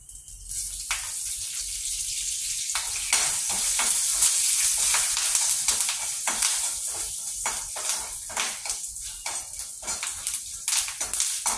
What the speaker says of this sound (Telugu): జాగ్రత్త అండి, తిరుగుతుంటాయి కరివేపాకు వేసినప్పుడు